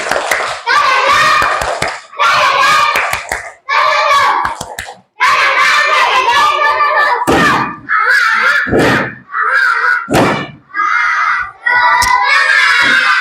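Children in a classroom do a rhythmic clapping chant, their loud group voices calling out in bursts punctuated by sharp synchronized handclaps.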